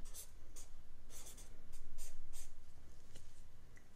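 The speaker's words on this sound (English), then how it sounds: "Let me just write it how it should be" A pen scratches across paper in short, close strokes, a rhythmic series of soft scraping bursts at a quiet level with no talk.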